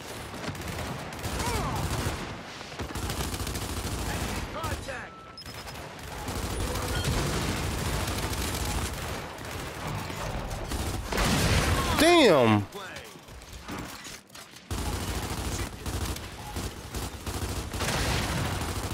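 Lancer rifles in a video game fire in sustained, loud rattling volleys with scattered booms, continuing through most of the stretch while players talk excitedly over the shooting.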